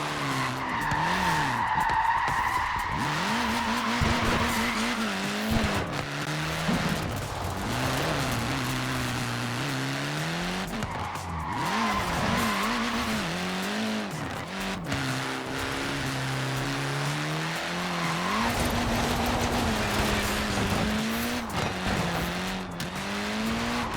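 A Mini laying down rubber in Forza Horizon 4 gives a long, loud, continuous tire squeal over a steady engine drone, with pitch wavering as the car slides.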